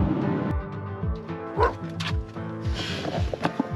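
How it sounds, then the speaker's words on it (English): A huge dog outside a tiny cabin door during a cold night, barking and yipping in a rapid run of close, loud woofs with whimpers and some thumping against the door, with no talk. "There's a huge dog banging on our door from the outside."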